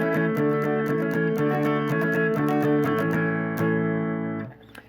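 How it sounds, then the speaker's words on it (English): An acoustic guitar strums Buddy Holly's "Peggy Sue" at full speed, a fast, steady, driving rhythm of chords played alone and loud before ringing out and fading at the end. "the end result will sound like this"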